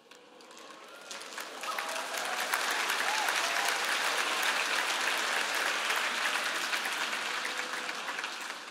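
An audience at a ZONE X 2023 church event claps, starting light and swelling into a loud, sustained wave of applause that holds steady and then eases slightly near the end.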